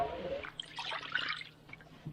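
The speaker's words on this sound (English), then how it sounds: "Now add the drippings into the pan along with equal parts water." Venison pan drippings and water are poured into a cooking pan for gravy, making a soft, close splashing trickle that runs for about two seconds.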